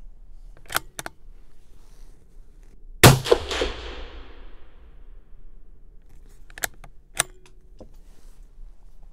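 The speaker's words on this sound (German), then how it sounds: "Wir geben einen weiteren Schuss ab und schauen," One loud rifle shot booms close by and rings out with a lingering decay, surrounded by scattered mechanical clicks and handling noises.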